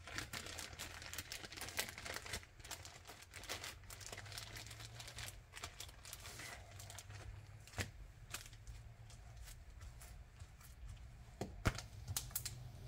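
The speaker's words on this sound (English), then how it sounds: "now I'm going to fold it in a way that I can get it in this plastic bag so that it will stay wet" A wet paper towel being folded into a plastic bag sounds close and quiet, with irregular crinkles, rustles and small plastic taps and no talk.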